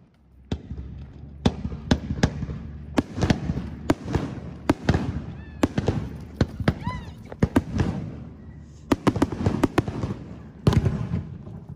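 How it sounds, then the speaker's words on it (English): Summer night fireworks over Lake Toya in Hokkaido, Japan, with a long series of sharp bursts and crackles at irregular intervals, some close together, echoing over the water, while a person talks in between. "At Toyako Lake, there will be fireworks every night in summer season to bring many tourists."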